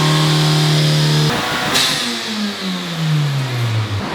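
A tuned 2024 Honda Civic Type R engine screams at high revs on a dyno run, then lifts off and the pitch winds steadily down as it decelerates, loud and close.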